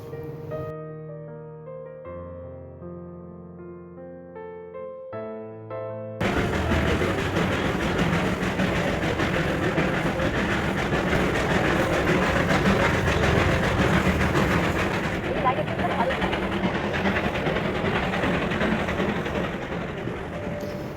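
A few seconds of a soft melodic tune give way to the loud, steady rumble and clatter of the Darjeeling toy train running, continuing without pause.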